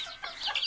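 Young chicks give a quick flurry of faint, high peeps, close by and lasting under a second.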